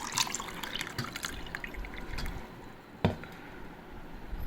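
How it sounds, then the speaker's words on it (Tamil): Nannari sherbet and nungu palm fruit being stirred together in a vessel, with soft wet sloshing and dripping throughout and one sharp clink partway through, no talk. "இதை ஒரு நல்லா மிக்ஸ் பண்ணிட்டோம்னா"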